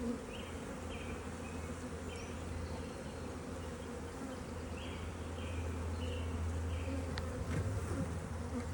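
Freshly hatched honey bees buzz steadily over a spring hive frame, a dense close drone with individual bees flitting past and no voices.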